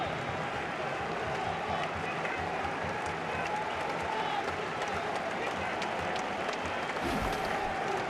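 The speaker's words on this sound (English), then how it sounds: "Silenced the Pakistan crowd. They are not silent now." Pakistan cricket crowd in a stadium at a 2019 World Cup ODI against England, cheering and applauding in a dense, continuous roar that holds steady for several seconds.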